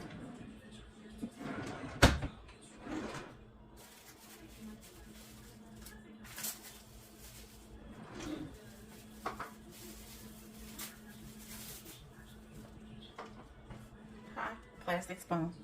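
Kitchen drawer rummaging while fetching a spoon: scattered clatters, knocks and a drawer or cupboard bump, close by and moderately quiet, with a person talking intermittently over the noise.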